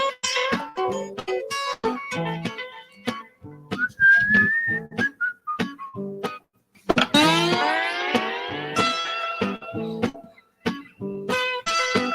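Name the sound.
person whistling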